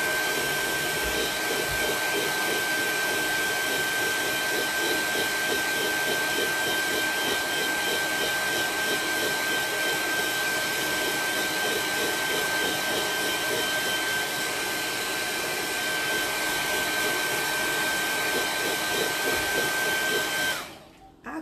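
A hair dryer blows on wet paint on a craft piece, a loud steady whirring drone with a constant high whine that runs for about twenty seconds before switching off abruptly near the end.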